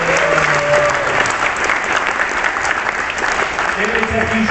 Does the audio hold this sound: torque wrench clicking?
no